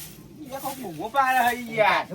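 A human voice mimics a goat's bleat in a comic sketch, with wavering, quavering vocal tones that build into two louder trembling bleats near the end.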